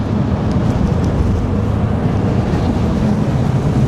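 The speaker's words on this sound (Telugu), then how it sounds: "అబ్బా చాలా గాలి అయితే ఉంది" Strong wind buffets the deck of a cruise ferry crossing from Spain to Morocco, a loud steady rumble of gusts and engine drone filling the whole stretch with no voices.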